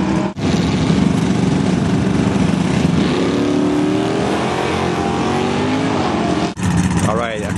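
Loud, sustained roar of a Camaro and a Mustang drag racing, engines revving hard at close range at an NHRA event at Portland International Raceway, with a crowd or announcer voice mixed into the din.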